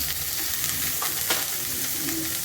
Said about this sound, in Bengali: কুমড়োটাও একটু ভেজে নেব।